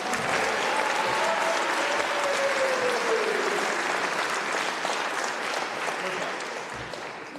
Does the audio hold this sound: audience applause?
yes